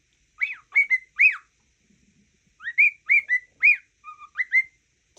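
A cockatiel whistles the Mickey Mouse tune, clear bright notes in two short phrases separated by a pause, close and alone in a quiet room.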